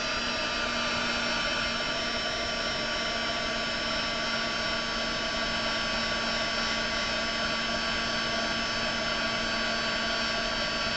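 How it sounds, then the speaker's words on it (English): A heat gun blowing steadily while drying a paper flower, a loud constant whirring drone with a high motor whine that stays unchanged throughout, with no talking. "use my heat gun to dry it"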